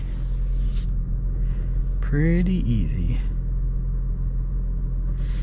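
A 2025 Lexus UX 300h hybrid car turns around at low speed, with a steady, low cabin rumble throughout and someone speaking briefly over it.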